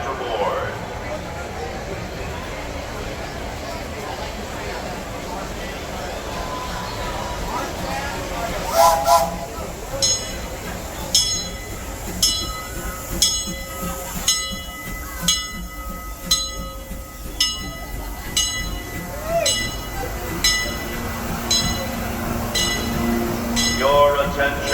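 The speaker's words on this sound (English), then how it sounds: "The Disneyland Limited, now arriving from a trip around Walt Disney's Magic Kingdom." A Disneyland Railroad steam train arrives at the station amid crowd noise, with a bright hiss and a short steam whistle blast, then a steady run of rhythmic chuffs or clanks growing in the foreground.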